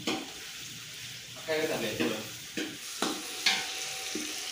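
Tomatoes being stirred and fried in a pan on a stove at a home New Year party, a steady sizzle with a few scraping and clinking spoon strokes, soft voices in the background.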